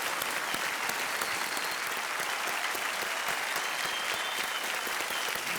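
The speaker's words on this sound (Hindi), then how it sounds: "एक बार मैं तालियों के साथ बंगबंधु जी का अभिनंदन करना चाहूँगा।" Studio audience on the Indian TV quiz show Kaun Banega Crorepati, season 6, applauding as a loud, dense, steady wash of clapping that continues without a break, with no talk over it.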